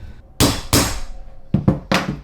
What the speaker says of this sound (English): So we're gonna hit it another couple times.